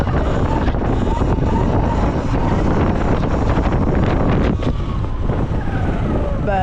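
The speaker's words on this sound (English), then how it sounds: "But it's pretty windy as well," Strong wind buffets an outdoor microphone in a loud, continuous roar that covers the whole stretch, with a faint engine-like drone underneath and no clear speech.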